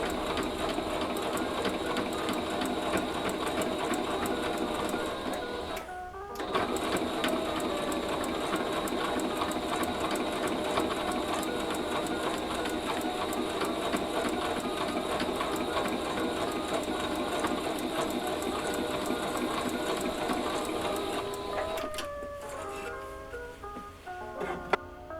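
Sewing machine top stitching seams on a handmade L'Oeuf bag, a loud steady mechanical whir with a dense rapid needle rhythm running continuously, a brief pause near six seconds, then slowing with uneven stops toward the end.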